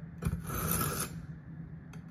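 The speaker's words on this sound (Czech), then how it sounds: "přičemž brousím obě strany zaraz tou nejhrubší zrnitostí" A Japanese kitchen knife drawn across the coarsest blue whetstone of a Yaxell water sharpener, giving one loud raspy scraping stroke of about a second with a few fainter rubbing touches after it, close and with no talking.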